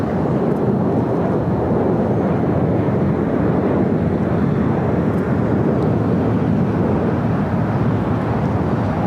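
Boeing 787-9 Dreamliner airliner at LAX, three years old, heard as a steady, loud broadband engine roar with wind buffeting the microphone, continuous for the whole stretch with no voices.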